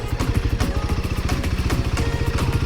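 Motorcycle engine on an off-road forest trail, a loud, steady throttle-modulated chug with rhythmic pulsing and clattering surges throughout, close up with no talking.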